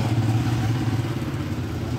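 A Honda 125 motorcycle engine used for a sidecar runs at a steady, low, rattling idle close by, with no speech.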